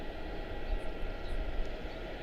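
An American Airlines A321 departs Charlotte-Douglas airport with a steady, broad jet-engine roar that is loud and continuous throughout.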